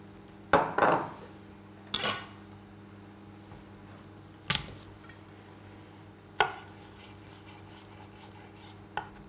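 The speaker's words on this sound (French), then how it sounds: "Je vais hacher des capres avec une gousse d'ail." Capers and a garlic clove being chopped with a knife on a board, a few separate sharp strikes and rasping cuts spaced out over several seconds, close and clear against a quiet background.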